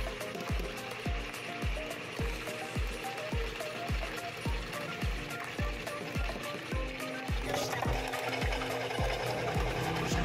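An electric grinder runs on soaked glutinous rice, a steady mechanical whir carrying a fast regular knocking rhythm of repeated thuds, loud and continuous with no talking.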